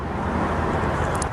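A parrot mimics a car engine starting with a steady, dense rumbling whoosh that fills the whole short moment without a break.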